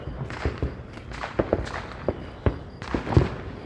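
Neighborhood fireworks popping and banging after the Fourth of July, a series of sharp reports at irregular intervals, some nearer and louder, over a low rumbling background with no talk.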